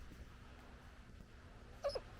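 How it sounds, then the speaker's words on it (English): A small puppy gives a brief, faint whimpering yelp near the end, two quick high cries over quiet background noise. "Little puppy called Buster now"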